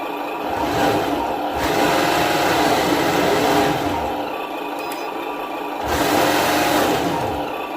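An HG P602 RC Cougar MRAP model truck's electric motor whirs steadily at close range, rising in two louder surges with its wheels in neutral, no talking.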